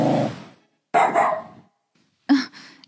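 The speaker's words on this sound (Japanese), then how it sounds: "代表、アバローがすごく吠えてますよ" A dog barks indoors in three separate bursts, loud and close, with short silences between them and no talking.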